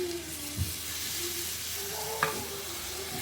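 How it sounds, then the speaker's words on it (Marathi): Water poured into chopped squid sizzling in a hot pan brings a steady, close hiss of frying and steam, with a couple of light clinks and stirring scrapes over it, and no one talking. "जस्ट थोडेंशें उदक घालता हांव."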